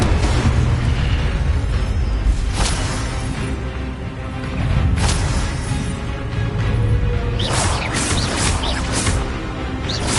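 Spell effects in the Hogwarts Legacy video game, with an Incendio fire spell cast among others: a loud, steady roar of noise punctuated by several sharp bursts and booms, with no speech over it.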